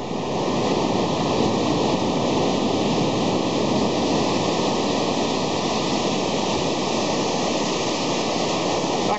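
Strong, rough surf pounding a beach at Ubatuba, a loud continuous roar of heavy waves with wind buffeting the microphone throughout.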